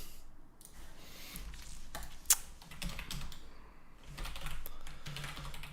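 Someone types on a computer keyboard during a live Python coding session, producing irregular bursts of fairly soft keystrokes with short pauses and one sharper click partway through.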